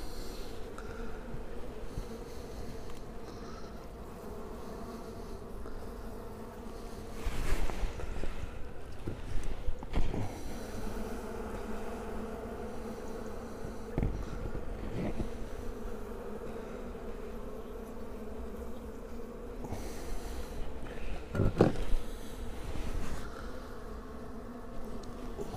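Honeybees drone steadily from an opened hive on a mild February day, a continuous close buzz lasting throughout, with occasional knocks and clicks of frames being handled.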